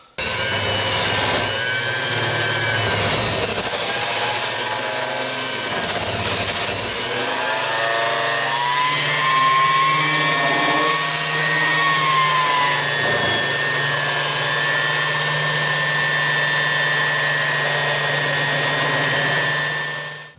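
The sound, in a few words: sanding a metal sheet for a mini jeep gas tank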